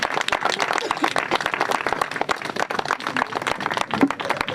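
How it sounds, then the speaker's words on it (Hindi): Steady, energetic clapping from a church congregation during an evening service, many hands striking continuously and fairly close, with no pause throughout. "हम एक बार परमेश्वर की तालियां को देंगे।"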